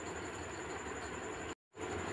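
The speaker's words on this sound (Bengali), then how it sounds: "আস্তে আস্তে আমাদের ট্রেন চলে আসছে" A train pulls into a station, a steady broadband rumble of wheels and engine filling the space, cut by a brief dropout of near silence before the same rolling noise resumes.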